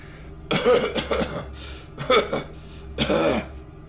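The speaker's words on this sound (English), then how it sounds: "How long have you had that cough?" Three harsh, throaty coughing fits in a row, close by, separated by short quiet breaks.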